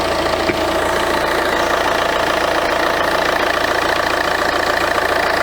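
A Citroën C5 engine idles while struggling to warm up, a steady close rumble with a faint knocking texture, even and unbroken throughout with no voices.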